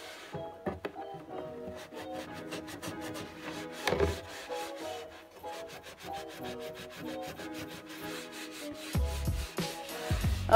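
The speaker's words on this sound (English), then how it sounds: "Just wiping off the base of the lamp just a little bit to take off the excess dust that accumulates" Soft, continuous rubbing and light scraping as dust is wiped from a lamp base on a nightstand, close and quiet with a few faint knocks.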